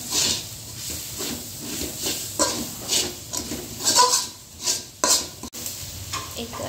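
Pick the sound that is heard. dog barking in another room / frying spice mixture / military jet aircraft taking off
frying spice mixture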